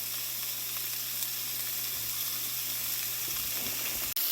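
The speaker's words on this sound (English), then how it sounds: "after the vegetables have been frying over medium heat for approximately 7 minutes" Vegetables frying in a pan over medium heat, a steady, dense sizzle crackling continuously at close range, with a faint low hum underneath and no talking.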